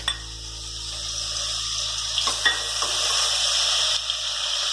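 Ginger garlic paste and finely chopped onion frying in half a cup of hot oil in a pan, with a steady bright sizzle and a few spatula stirring knocks, close and alone.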